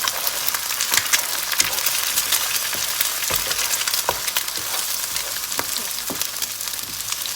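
Eggs being scrambled and fried in a hot pan for pad see ew with pork, a loud continuous sizzle broken by frequent quick scraping taps of a spatula stirring, no talking.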